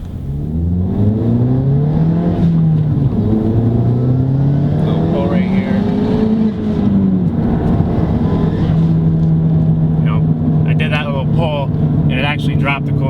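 A Ford Fiesta ST with an aluminum radiator pulls away hard from a stoplight, its engine note rising through the revs, dropping at a shift, then climbing again, loud and close from inside the car.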